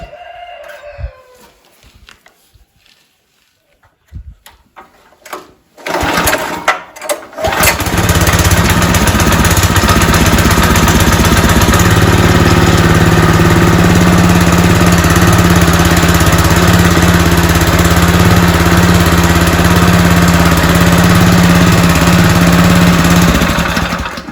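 A DTZ 470 walk-behind tractor engine, just after a post-break-in oil change, starts following a few quiet seconds of fumbling, then idles loud and steady with a constant close drone until the end.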